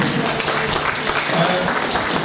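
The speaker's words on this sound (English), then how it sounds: "I think she deserves a clap for that." Dense audience clapping at a literature festival session, a steady wash of many hands with some voices mixed in, close and fairly loud throughout.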